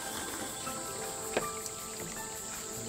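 Cicadas buzzing outdoors on a summer day, a steady high shrill drone that continues throughout at moderate loudness, with a couple of faint knocks and clicks in the foreground and no speech.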